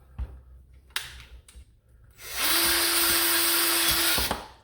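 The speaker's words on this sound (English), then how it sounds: "I took my drill with my biggest drill bit on it, and I'm just going to drill in the middle" A power drill with a large bit whirs steadily at high speed for about two seconds, loud and close, boring a hole in a plastic toy blaster after a few light knocks and clicks.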